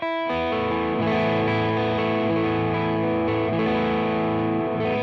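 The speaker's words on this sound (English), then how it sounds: "It just sounds like I've rolled off the tone on my guitar." A heavily overdriven electric guitar with the tone knob turned all the way down sustains thick, muffled chords, loud and continuous with a dull, darkened top end and no talking.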